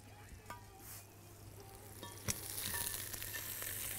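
Crab frying in a pan with pepper and garlic gives off a steady, fairly soft sizzle with occasional sharper pops and stirring sounds, with no talking.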